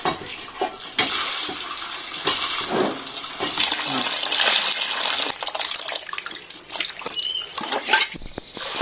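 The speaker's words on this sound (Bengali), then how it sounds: "আমগুলো একটু পরিষ্কার করে নিই।" Tap water runs and splashes while green mangoes are washed by hand. The flow is continuous at moderate volume, with irregular sloshing and bursts as the fruit is rubbed under the stream.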